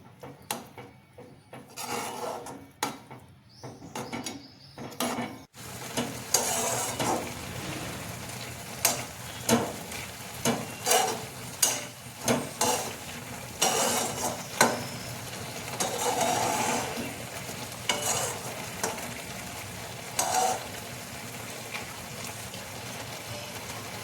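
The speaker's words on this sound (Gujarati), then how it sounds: "આ રીતે ધીમે ધીમે એમાં હલાવતા રહેવાનું છે, જેથી તળિયે બેસી ન જાય." A spoon scrapes and stirs through thick carrot halwa in a pan, repeated rasping strokes over a soft sizzle, close up.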